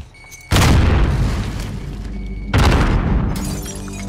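A fragmentation grenade explodes in Call of Duty: Warzone, then a second loud blast follows about two seconds later. Each is a sudden, heavy boom with a long rumbling tail, and there is no talking.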